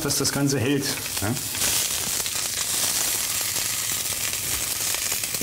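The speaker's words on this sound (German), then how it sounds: "Kommt ein bisschen Öl rein. Und dann nehmen wir uns die Wachtel" Quail wrapped in ham sizzles and fries in hot oil in a pan, a steady crackling hiss that stays constant and close after brief talking at the start.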